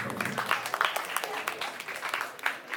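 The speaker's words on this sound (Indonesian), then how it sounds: "Tepuk tangan dong semuanya." Applause from an audience, a steady patter of many hands clapping at moderate volume, with some crowd noise mixed in.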